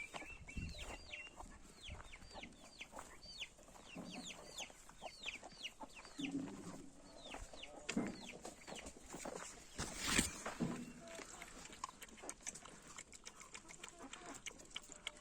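Chicks cheep and cluck as they peck at scattered feed on the ground outdoors, a steady run of quick, faint peeps with occasional louder calls.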